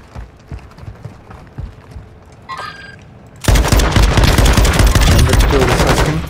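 Sustained machine gun fire erupts in a video game, a dense, loud, continuous rattle after a few scattered shots and a brief electronic tone.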